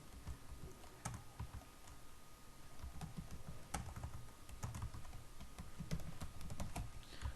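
Computer keyboard typing while a salary slip is filled in Microsoft Excel: steady, quick, fairly quiet key clicks close by, continuing without speech.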